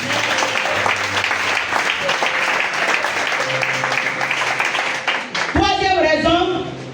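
Church congregation applauding the Lord: sustained loud clapping from a crowd fills the room, mixed with cheering voices, and an organ chord enters near the end.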